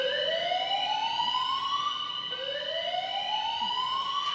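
A fire alarm wails loudly and alone, its tone sweeping upward in repeated rising cycles about two seconds apart.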